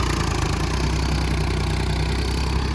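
A Massey Ferguson 255 tractor engine running steadily close by, a loud, even low-pitched diesel throb with a fast regular pulse and no speech.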